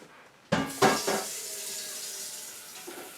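A kitchen tap runs into a metal stock pot, starting with a clank, then a steady, fairly quiet stream of water filling the pot.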